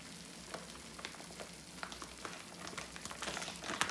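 Ghee sizzles softly in a pan while Amritsari pinni cooks, a low steady frying hiss with light crackles that grow a little louder toward the end.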